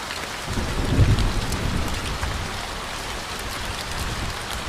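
Steady heavy rain falls on a road, a dense, even hiss with a low rumble of thunder early on, and no one is talking.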